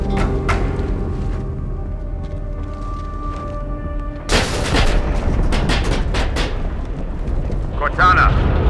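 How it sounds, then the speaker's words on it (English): Explosion in the Halo 2 Anniversary video game: a sudden loud boom erupts mid-clip over a low humming background, followed by rumbling debris and scattered crackling blasts. "That explosion came from inside the Athens, same as the Malta."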